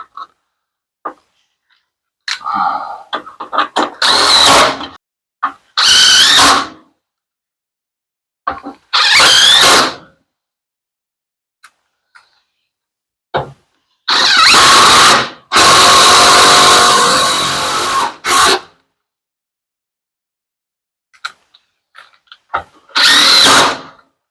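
A power drill drives screws into an LG washer door hinge in loud, close bursts of whirring, about eight separate runs of varying length, the longest a couple of seconds, with silent pauses between and no talk.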